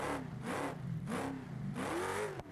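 Truck engine in BeamNG desert racing over a bumpy section, throttle feathered in repeated on-off pulses, the revs rising and dipping in a rhythmic wavering drone, moderately close.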